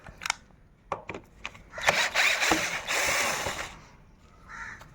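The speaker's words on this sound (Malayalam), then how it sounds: "ഈ ഒരു സ്ക്രൂ അഴിച്ചെടുക്കുക" Metallic clicks and ratcheting scrapes come from a screw being worked loose on the speedometer cable of an old Splendor motorcycle, close and irregular, with a longer rasping stretch in the middle.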